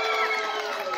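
A wrestling crowd at an XP Wrestling event, cheering and shouting together in a loud, sustained roar from many voices filling the arena.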